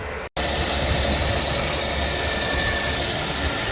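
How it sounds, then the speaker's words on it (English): A John Deere 8RX tractor runs with a steady, dense engine rumble that stays loud and constant after a brief dropout at the start. "Look at that beautiful tractor."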